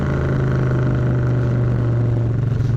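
A 1995 Suzuki Intruder VS1400 cruiser motorcycle pulling hard in third gear, a loud, steady, deep engine drone that holds throughout with no voices.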